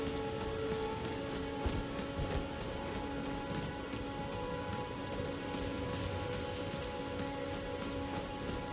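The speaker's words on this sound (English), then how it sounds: "Oh, and just beautiful effects like this rain right here." Steady, dense rainfall in the Elden Ring video game, a continuous hiss of drops pattering on surfaces that stays even and fills the whole scene with no voices.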